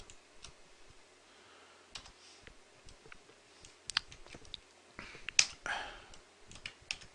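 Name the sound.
typing on a computer keyboard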